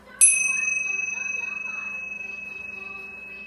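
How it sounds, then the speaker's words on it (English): A single bell struck once, used for clearing energy in a reiki and singing-bowl session, rings out with a bright clear tone that sustains and slowly fades over several seconds in a quiet room. "Bells are good for breaking up negative energy,"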